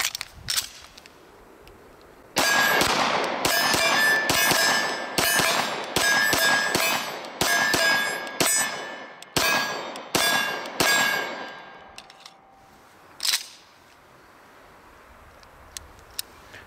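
Rapid 9mm pistol shots from an Arex ReX Zero 1S or Sarsilmaz Mega 2000 ring off steel targets outdoors, a dense string of sharp cracks each followed by a bright metallic clang, then a pause and one more shot.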